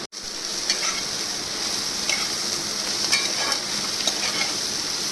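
Egg bhujia sizzling steadily in a pan, a constant bright frying hiss broken by a few soft scrapes of a spatula stirring it, close and alone without talk.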